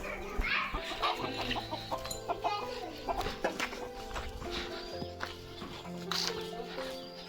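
Chickens cluck and squawk close by in a Konkan village, with people talking over them and background music playing throughout.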